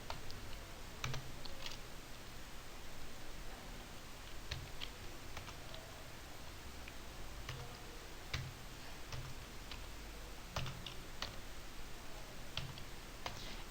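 A verification code is tapped out on a computer keyboard, a series of light, irregular key clicks spread over several seconds, quiet and close, under steady background hiss with no talk.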